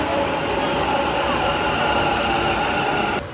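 A metro train rumbles steadily and fairly close at Yeshwanthpur metro station in Bengaluru, a continuous broad roar with faint wheel hiss that cuts off abruptly near the end.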